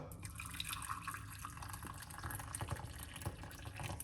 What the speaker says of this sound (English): I'm going to pour some hot water